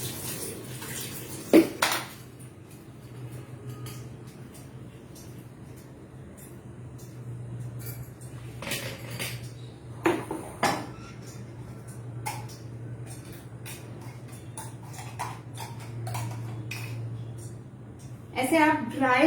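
Paan chutney being mixed into an ice cream base in a bowl, with sporadic spoon clinks and scrapes against the dish over a low steady hum, while someone talks intermittently.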